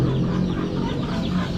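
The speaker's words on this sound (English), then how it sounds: "Look at these chickens" Chickens at a Bali market cluck continuously at close range, layered low clucks and murmurs forming a steady busy bed with no talking.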